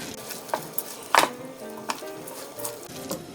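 Seasoned bracken fern stir-fried with sesame oil in a pan, giving soft sizzling and scattered utensil clacks and scrapes, with one louder clatter near the middle.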